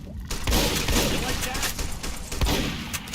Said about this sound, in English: nothing like some peace and quiet just after a barrage of shotgun fire